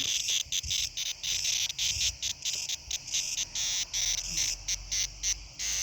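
Loud, shrill cicada buzzing on Crete pulses in rapid bursts, pausing briefly between phrases, close and continuous with no voices.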